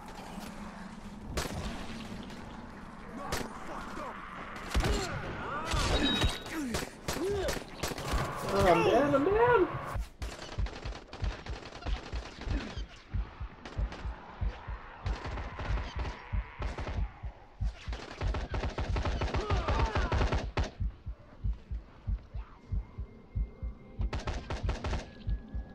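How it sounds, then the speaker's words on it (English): Rapid bursts of machine gun fire from enemy risers in the video game Dying Light, crackling in dense rattling volleys among other combat noises, with a player talking over much of it. "One of them's got a machine gun and I want it."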